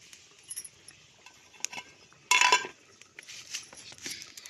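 A metal lid set down onto a pot of vegetable dal with peas and carrots on a home kitchen stove, giving one sharp, bright clink at close range amid faint scattered kitchen clatter.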